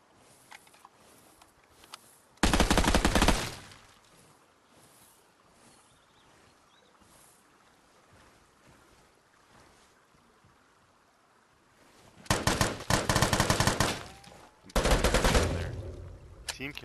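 Gunfire erupts in the video game Vigor, with a short loud burst early on and then longer rattling volleys of automatic fire near the end, separated by a long quieter stretch of background game ambience.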